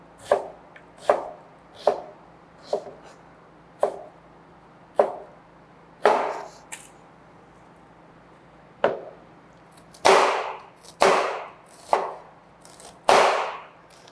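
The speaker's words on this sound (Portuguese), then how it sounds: "E aí eu venho cortando a cebola." A knife chops through an onion on a cutting board in sharp, distinct strikes, spaced irregularly at first and then coming in a quicker cluster near the end, close and clear with no voices.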